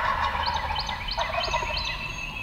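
Wild turkey gobblers gobble again and again during a Mississippi spring turkey hunt, the rattling calls coming from a distance and sounding clearly over steady outdoor background noise, with no talking.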